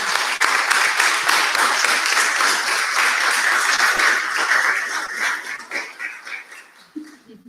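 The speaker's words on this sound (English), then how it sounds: "And now a round of applause for all our awardees." A large audience at a student recognition awards ceremony gives a round of applause for the awardees, dense sustained clapping that fills the room and then thins out and fades near the end.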